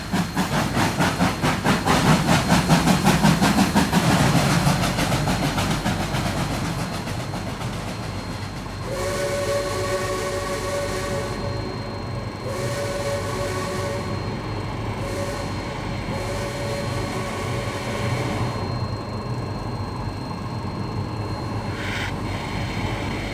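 A model Pennsylvania Railroad E6s steam locomotive, #460, swapped at Manhattan Transfer for a pair of DD1 third-rail electrics; a loud low rumble and rolling rail noise at first, then a steady electric hum with sustained tonal whistle-like tones and clanks.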